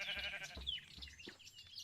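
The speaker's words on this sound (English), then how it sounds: "And we can go over here and we can find sheep." Sheep bleating in the Minecraft video game, several short wavering bleats repeating in an uneven rhythm, fairly close and clear, with no talk over them.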